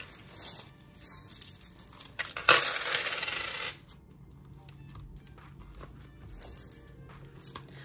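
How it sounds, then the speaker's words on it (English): A few coins clink and jingle as they are dropped into a small black wallet, a brief close rattle followed by quieter handling sounds. "then I put the change in here"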